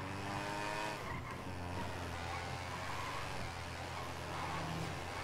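Yamaha RD350 two-stroke motorcycle ridden through the Paraisópolis favela, a steady loud engine drone with shifting pitch and road noise, continuous and close throughout.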